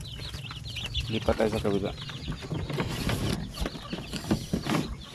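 Young incubator-hatched chicks peep in thin, high chirps, scattered and overlapping, close by while a person talks over them.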